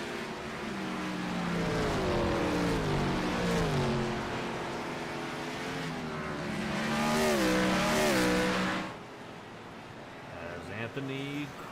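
Race cars come down into pit road at The Glen, their engines loud and close with rising and falling whines that overlap. A commentator talks over them before the noise drops away near the end.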